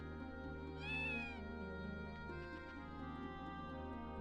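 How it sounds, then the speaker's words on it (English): Cat meowing in the video game Breath of Fire 4, one clear rising-falling meow over a constant bed of game background music, with no talk. "Kitty cat."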